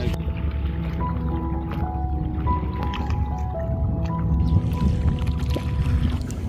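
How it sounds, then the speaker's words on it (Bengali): Water sloshes and splashes as someone wades through it, a continuous wet churning with soft squishy steps over a low droning hum. "দেখো পানির কি সুন্দর শব্দ"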